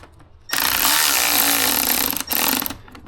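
A power tool loosens a 10 millimeter bolt on a 2015-or-later Ford F150, a loud close buzzing burst lasting a couple of seconds with a short break, no talk over it.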